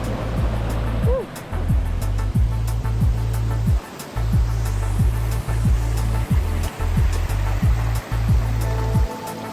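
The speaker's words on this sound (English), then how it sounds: "Lucky Creek flows down cascading layers of granite rock beds and pools" A creek pours steadily over cascading granite rock beds and pools on Vancouver Island, a constant broadband roar close by with no voices, running unbroken for the whole stretch.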